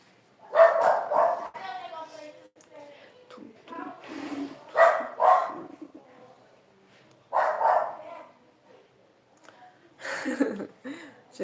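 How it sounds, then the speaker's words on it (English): Neighborhood dogs barking in short bursts, somewhat distant, with kids playing nearby, alternating with someone talking between the barks. "The dogs again, because of the kids here."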